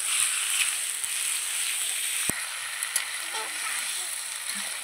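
Spiced meat sizzles and fries steadily over a clay wood-fired stove outdoors, a continuous close crackle with a sharp tap of a utensil partway through.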